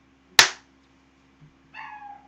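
A single sharp clap of two hands together, close and crisp, followed after a pause by a brief voice.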